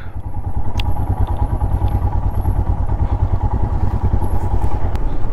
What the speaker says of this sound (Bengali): সবগুলো বাইক কি সুন্দর সারিবদ্ধভাবে যাচ্ছে